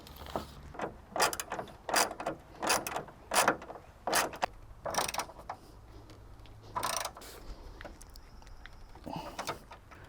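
Bolts are being tightened on bedside reinforcements of a Toyota Tacoma: repeated short ratcheting bursts and metallic clicks, close and fairly quiet, coming in irregular clusters with brief pauses between.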